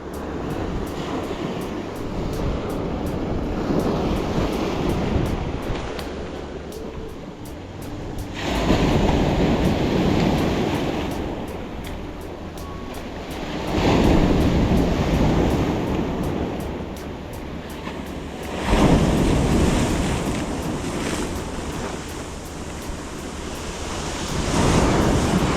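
Ocean waves breaking on a shore with weed in the water, a loud rolling surge that swells and washes in about every five seconds, continuous and close, with no voices.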